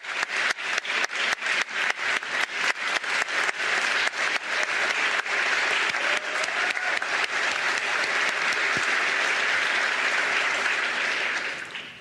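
An audience claps in loud, steady, sustained applause that fills the room, fading only slightly toward the end.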